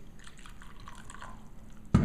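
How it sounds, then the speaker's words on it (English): Water is poured into a cup holding a tea bag, a short, loud splashing burst at the very end after near-silence with faint drips. "pour in the water"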